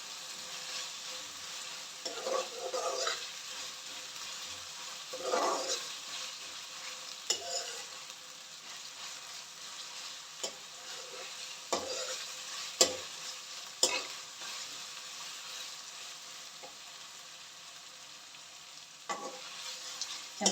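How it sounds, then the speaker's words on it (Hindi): Garlic and ginger paste fries with onions in a pan for eggplant curry, a steady close sizzle broken by repeated scraping stirs of a spoon against the pan, with no talking. "1 ही मिनट हम इसमें लहसुन अदरक को साथ में फ्राई करेंगे"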